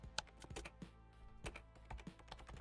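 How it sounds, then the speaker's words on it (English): Keyboard typing from a character in the PC Building Tycoon 2 video game, heard as a short burst of crisp, irregular key taps and thunks, fairly close and faint, with no talking over it. "He's typing on a blank monitor."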